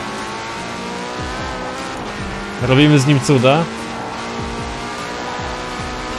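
A Porsche's engine and exhaust in the racing video game Forza Horizon 4 rev in a short, loud burst midway, rising and falling in pitch. Steady game noise and a voice speaking Polish run throughout.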